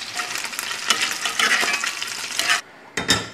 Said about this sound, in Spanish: Tenemos un litro y algo de agua hirviendo con sal. Vamos a añadir nuestros espaguetis.